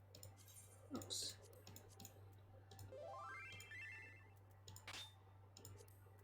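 Chat notification sounds from Final Fantasy XIV: a quick rising run of bright chiming tones, with scattered clicks and short blips before and after, all faint.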